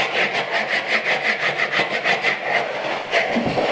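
Hand saw cutting a kerf into the end of a wooden board for a mitered bridle joint, a steady run of rhythmic rasping back-and-forth strokes, close and alone.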